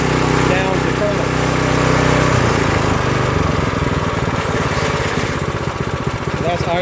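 An Earthquake Victory garden tiller engine runs loud and close at full speed, then drops to a lower, chugging idle partway through as the throttle is turned down, with a voice talking over it.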